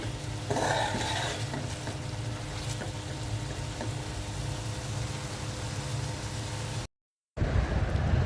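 Pangas fish curry with green chillies sizzles and fries in a pan, a steady hiss with occasional stirring scrapes, close and continuous, cut by a brief silence near the end.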